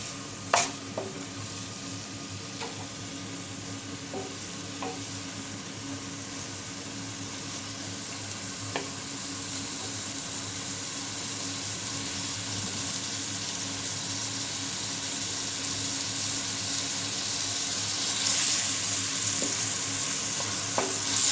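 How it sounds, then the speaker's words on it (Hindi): Onions fry in a pan for an aloo shimla mirch dish with a continuous dense sizzle. A spoon stirs them now and then with occasional sharp clicks against the pan, and the frying grows slightly louder toward the end. "प्याज हमने डाल ली हैं, इनको अच्छे से हम भून लेंगे।"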